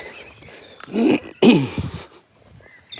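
A dog vocalizes excitedly on a Tuesday morning walk, two short bursts of yelping, whining sounds close by, separated by brief pauses over outdoor background.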